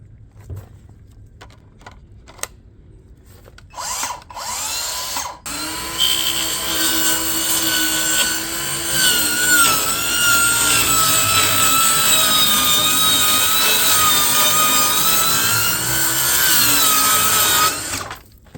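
A Harbor Freight cordless circular saw running on a 5 amp hour battery cuts through half-inch wood: a few brief whirs, then a loud, steady high-pitched cutting whine lasting over ten seconds before it stops.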